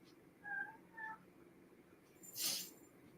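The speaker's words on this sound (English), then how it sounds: "You're going to hear the cat meow probably, but I'm not letting him out." A house cat indoors gives two faint, short meows close together, then a brief hissy rustle follows, all quiet against a low room background.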